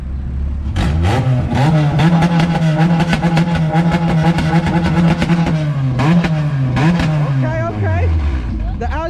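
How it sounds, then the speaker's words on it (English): Acura Integra engine revving at a street meet two-step contest, a loud sustained rev held steady with rapid limiter stutter, rising and falling at the end, amid crowd noise. "All right, let's hear the Teggy."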